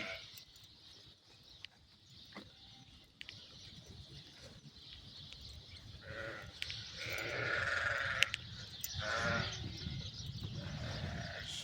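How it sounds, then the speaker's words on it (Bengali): Sheep and fat-tailed dumba sheep on a livestock farm bleat in overlapping calls, building from sparse, faint cries to a busier chorus near the end, with occasional bird chirps. "এটা একটা ফার্ম, ভেড়ার ফার্ম।"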